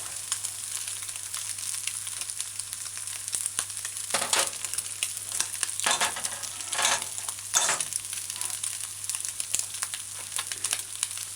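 Ham and egg frying on a stove at medium high heat, a soft steady sizzle with occasional crackles and stirring scrapes, close and without talk.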